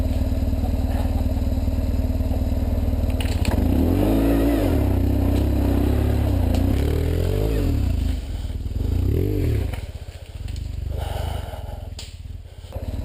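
An offroad BMW F800GS motorcycle revs hard and spins its rear wheel to climb through a crack in rough terrain, engine loud and close with surging, wavering pitch and clattering scrapes, easing off near the end.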